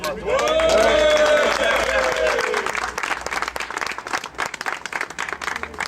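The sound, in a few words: audience applause for raffle winner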